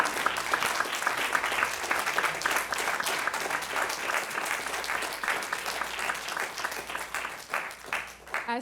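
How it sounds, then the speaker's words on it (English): Steady audience applause at a mental health awareness event, a dense even clapping that holds for several seconds and tapers slightly at the end, with faint voices mixed in. "give her a round of applause as well"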